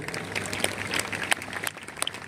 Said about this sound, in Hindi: तालियों को बजाएं।